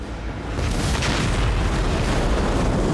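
A huge explosion at a petrochemical plant roars as a loud, sustained rumbling boom, swelling after a brief onset and then holding with a heavy, distant-sounding low roar throughout.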